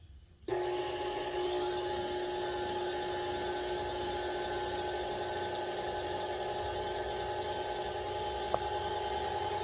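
A steady, continuous motor whine from an electric mixer beating pound cake batter for a peach cobbler pound cake, droning at a constant level with no talking.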